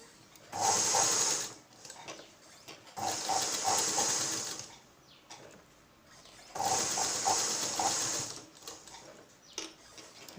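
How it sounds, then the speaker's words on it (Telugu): Sewing machine stitching buttonholes on a blouse, running in three loud sustained bursts of a second or two each, separated by short quiet pauses. "సో నేను మిషన్ తోటి కాజాలు వేస్తున్నాను"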